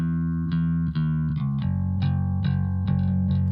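A soloed instrumental track driven through a Kush Audio Omega Transformer distortion plugin, each note hitting with a gritty, saturated attack and sustaining thick buzzing harmonics in a steady pulsing rhythm.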